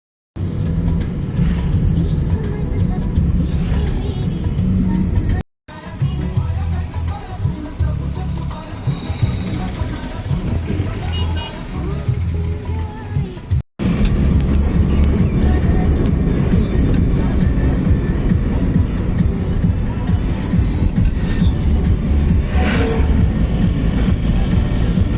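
Steady engine rumble and road noise from inside a car on a mountain road near Relling in Darjeeling, continuous and loud with two brief dropouts.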